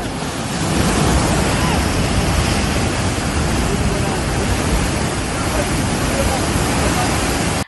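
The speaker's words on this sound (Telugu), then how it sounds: "కాళేశ్వరం నీళ్లు షిమ్మిచ్చి వస్తున్నాయి, ఎగిరెగిరి వాడుతున్నాయి, కాల్వలల్లా నిండుగా వాడుతున్నాయి." Water from the Kaleshwaram project pumps at Ramadugu Lakshmipur gushes through full canals as a loud, steady, broadband rush that runs without a break.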